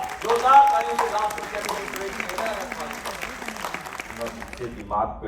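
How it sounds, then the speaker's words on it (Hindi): Audience applause at a Hindi-language official language award ceremony as a comic poet is called to the stage. Moderate, steady clapping from the crowd runs for several seconds beneath a talking voice. "जोरदार तालियों से"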